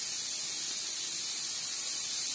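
A pressure cooker holding chicken ghugni lets off steam through its whistle, producing a continuous loud, hissing spray with no break.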